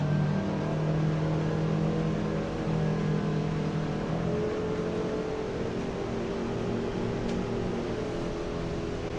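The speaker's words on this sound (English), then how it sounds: "So let's go ahead and pop the boat up on plane." A 2020 Regal 38 Grand Coupe motorboat's engines roar steadily as the boat accelerates up onto plane, a loud, continuous low drone with a rising whine throughout and no talking.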